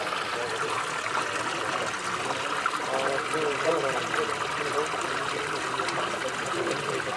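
Water from a pump motor that has run since morning flows steadily into a field pit, a continuous trickling and splashing rush heard up close with talk mixed in.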